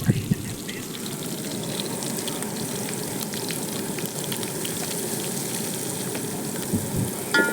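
Onions fry with turmeric in a pan, giving a dense, steady crackling sizzle that runs close and loud throughout, with a few faint clinks near the start and end.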